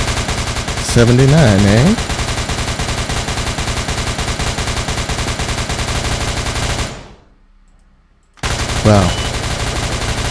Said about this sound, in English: Whoever is shooting over there is going crazy.